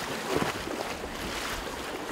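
Boat wake waves on a river near Parintins in the Amazon, a steady wash of water and wind noise, continuous and moderately loud with no voices.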